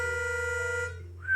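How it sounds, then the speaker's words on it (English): A pitch pipe plays a steady reedy C with a second, slightly off-pitch note sounding alongside it, producing a sour beating clash, then fading into a brief higher whistle. "if I play a C on my pitch pipe"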